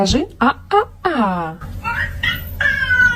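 A cat makes a string of drawn-out, wavering meows that mimic a human scolding tone, alternating with a voice speaking nearby.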